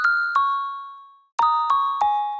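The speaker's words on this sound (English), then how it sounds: "So I used Redux, which is basically like a bit crushy kind of effect." A bass synth run through a Redux bit-crush effect plays five short bright hits with ringing metallic tails. There are two quick notes, a pause, then three evenly spaced notes, loud and close, with no voice.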